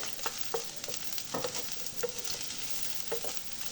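Broccoli pieces sautéing in oil in a pan, with a steady soft sizzle and a few sharper scraping or stirring taps at intervals, close and moderately quiet, no talking.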